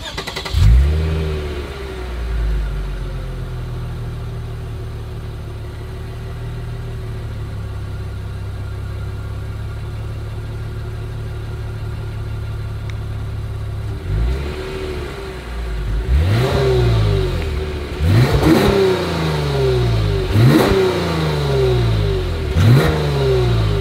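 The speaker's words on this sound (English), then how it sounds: "As always, here is that exhaust clip." A 2021 Lexus IS 350 F Sport engine idles steadily, then a series of sharp exhaust revs rise and fall in quick bursts, loud and close.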